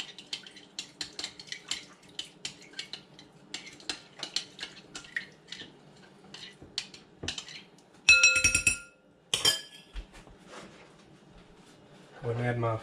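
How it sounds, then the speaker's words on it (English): A spoon stirs seasonings into a mixture in a bowl while cooking chilli lime fish, making repeated light clinks and scrapes against the dish, with a few louder clatters and brief bursts of handling noise, close up. "Stir that in until it's well blended."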